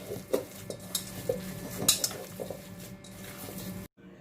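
Ground meat mixture for burger patties is stirred by hand in a bowl, with soft squishing and scattered clinks of utensil against the bowl over faint kitchen background, ending in a sudden cut to silence.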